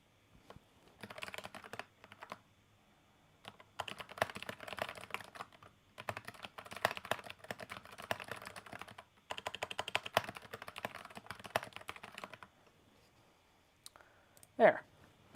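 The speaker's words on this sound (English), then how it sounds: "Like, I'm clicking." Rapid mouse and keyboard clicks come in dense bursts with short pauses, close and moderately loud, during a quilting destash livestream, ending in a brief louder knock.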